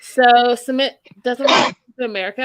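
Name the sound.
sneeze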